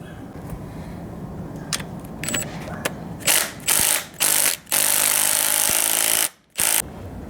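Impact wrench tightening a 14mm bolt on Honda Civic coilovers in a garage: several loud bursts of rapid hammering of about a second each, separated by brief pauses, after softer clicking and handling noises.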